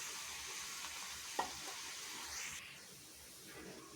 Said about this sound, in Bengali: একটা একটা করে দিয়ে ভেজে নিচ্ছি। তেল গরম হয়ে গেছে, গ্যাস আস্তে দিয়ে দিয়েছি।